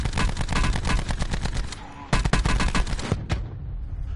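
Rapid video-game gunfire from a Call of Duty Blackout match, dense bursts of shots rattling continuously for about two seconds, a brief gap, then another loud volley that tapers off.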